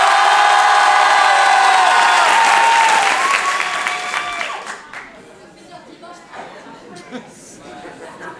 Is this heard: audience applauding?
yes